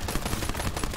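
Rapid automatic gunfire in the video game Borderlands 3, a dense, loud, continuous stream of shots filling the whole second.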